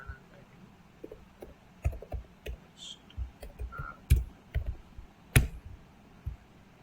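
Computer keyboard keys clicking close by in uneven bursts as a command is typed, with scattered single taps, soft thumps and a few louder clacks over quiet room noise.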